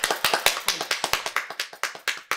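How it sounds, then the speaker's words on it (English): A few people clap in a loose, steady run of sharp claps, close and fairly loud, with no talking over them. "We just have to clap."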